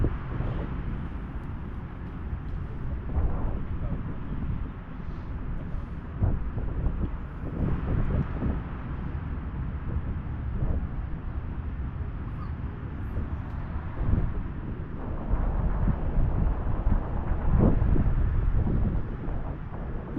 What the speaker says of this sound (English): The wind's got up from nowhere and it's dropped the temperature down a little bit.